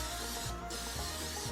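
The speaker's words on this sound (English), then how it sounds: "let me go ahead and take some of this olive oil cooking spray" Olive oil cooking spray hisses onto chicken patties in a steady, close, continuous burst, with a brief lull partway through.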